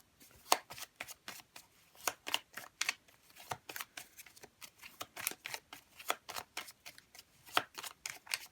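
Oracle cards are shuffled in quick, faint, papery riffles and slaps that repeat in an uneven rhythm, close by in a quiet room with no talking.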